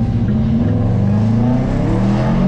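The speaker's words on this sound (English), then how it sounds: "that rattle in the exhaust?" A car engine revs steadily and loudly up close, a low rumbling drone with a faint rattle from the exhaust running through it, no voices.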